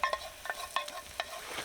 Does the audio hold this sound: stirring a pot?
yes